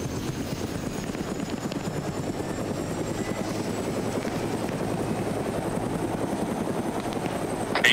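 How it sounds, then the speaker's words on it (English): A Huey helicopter lifts off in a military video game, its rotor thumping as a steady, dense chop beneath a low engine roar that holds at an even level throughout. "Hey, you got another helicopter taking off."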